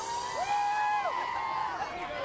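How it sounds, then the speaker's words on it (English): Spectators on the shore at the Rip Curl WSL Finals 2023 surf contest, with Brazilian supporters present, let out sweeping whoops and whistles above a steady wash of crowd noise. "The crowd on the shore here, Rip Curl WSL Finals, Brazilian flag supporting the defending world champ Felipe Toledo"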